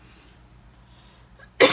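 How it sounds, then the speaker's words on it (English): A person's single sharp cough bursts out loudly at the very end, after near silence, while unboxing a planner subscription box indoors. "I am so sorry about the coughing."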